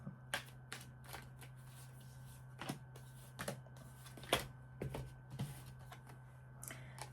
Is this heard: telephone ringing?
no